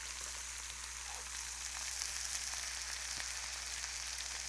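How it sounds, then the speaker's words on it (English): Quiet steady sizzling of a burger frying in a hot oiled pan, a soft crackling hiss with occasional pops over a low hum. "Listen to that sizzle."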